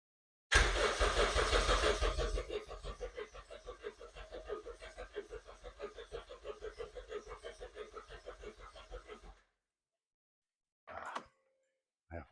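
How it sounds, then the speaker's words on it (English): Starter cranking a Toyota MR2 hillclimb car's engine without it firing, to prime the oil: a loud initial churn, then a rapid, even chugging rhythm for about nine seconds before stopping, followed by a few brief faint noises. "I need to prime the fuel pump. Sorry, I need to prime the oil."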